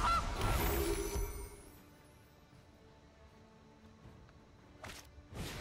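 A cartoonish goose honk plays at the start for the Gilded Goose card in MTG Arena Brawl, followed by a quiet lull and two short bursts of game sound effects near the end.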